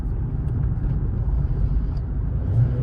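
A Kia Forte engine with a fault that makes it cut off and restart, heard as a steady low rumble from inside the car, slightly dipping and swelling without a clear stop.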